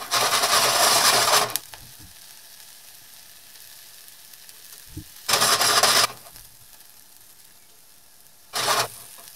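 Bursts of loud sizzling from onions frying and caramelizing in a pan, three separate spells of hissing with quieter stretches and a few clinks between them.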